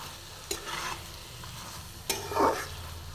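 Chicken cooks in a pan over a low flame for pumpkin-leaf chicken chop, giving a soft steady sizzle with a few sharp spoon scrapes and stirring bursts, close and alone.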